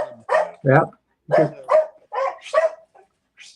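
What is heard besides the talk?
dogs barking in a shop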